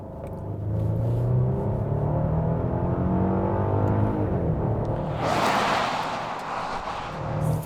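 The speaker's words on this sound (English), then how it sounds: "a nice sounding engine as well" Genesis GV80 3.5-liter twin-turbo engine rumbling steadily as the SUV accelerates, with a rising rush of road and wind noise toward the end; loud and close, no talking.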